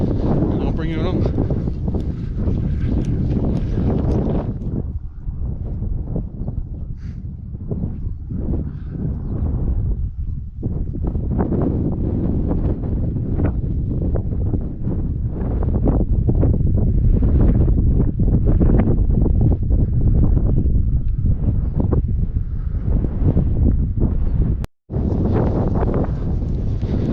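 Wind buffets the microphone on open moorland at Bodmin Moor, a strong, steady roar of gusts throughout, with a person talking over it.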